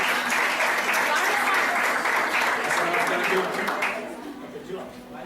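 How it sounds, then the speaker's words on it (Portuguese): A Pentecostal church congregation applauds during a service, a broad wash of many hands clapping loudly with voices mixed in, then fading toward the end. "Vamos aplaudir, irmã."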